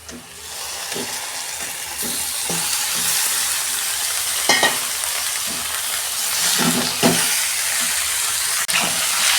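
Chicken hits a pan of fried onions with crushed garlic and pepper, breaking into a loud, steady sizzle near the mic, punctuated by repeated scraping and stirring knocks; no talking.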